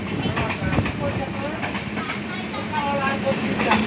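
Passenger and express trains running on the main and loop lines near Tenali station give a steady rumble and rhythmic wheel clatter close by, with people talking over the noise.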